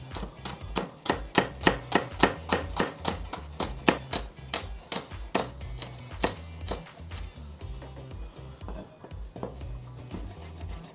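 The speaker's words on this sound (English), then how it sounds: "It's critical that you get this very finely diced so that these red onions melt into the sauce." A knife finely dicing red onions on a cutting board, a slow, even series of crisp chops close up that thins into lighter scraping near the end, with no talking.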